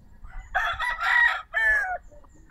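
A red Kelso gamefowl rooster crows loudly and close by, one full cock-a-doodle-doo call in broken, strained bursts, with faint background noise and no talk.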